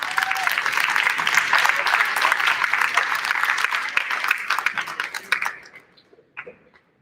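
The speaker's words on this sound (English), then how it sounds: "Let's have a round of applause." A school audience claps in a full, steady burst that thins out into a few scattered claps and fades to near silence by the end.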